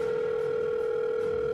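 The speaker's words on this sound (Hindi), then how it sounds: "डॉक्टर को तुरंत फोन किया।" Steady telephone dial tone heard as a sound effect in a Hindi ghost cartoon, a continuous, loud, unbroken hum held alone for its whole length.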